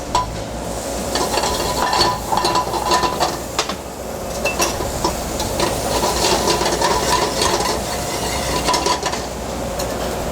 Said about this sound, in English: We're going to then saute in a little bit of whole butter. Our shallots.